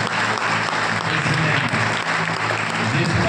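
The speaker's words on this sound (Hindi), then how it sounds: "उस पतरस के लिए एक ताली बजाओ" A church congregation at a Hindi-language Christian worship service claps steadily, in dense continuous applause that fills the whole moment, loud and close, with a faint murmur of voices underneath.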